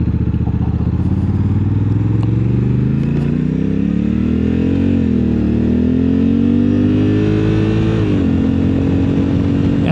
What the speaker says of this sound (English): We'll give you a little sporty takeoff in sport mode.